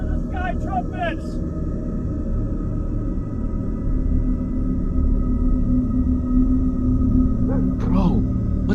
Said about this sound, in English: Those are the sky trumpets!